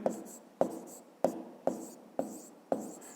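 A pen writes out a maths problem in six evenly spaced strokes, each a short scratchy tap that fades quickly. The sound is close and quiet, with no speech.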